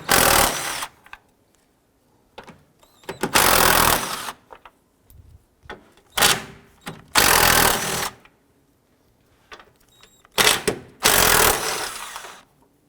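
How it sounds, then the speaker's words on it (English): An air impact tool removes 13mm grille bolts on a 2004-2009 Dodge Durango in loud, buzzing bursts of one to two seconds, separated by quiet gaps and short ratcheting clicks. "We're now going to go ahead and remove the 13mm bolts holding the grill."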